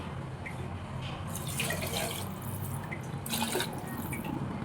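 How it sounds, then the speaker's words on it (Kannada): Water splashes and trickles into a pot of ghee rice and dal in short bursts, close up and fairly quiet, with a steady background hum. "ನೋಡ್ರಿ ಇದಕ್ಕೆ ನೀರು ಹಾಕ್ತಾ ಇದ್ದೀನಿ ನಾನು"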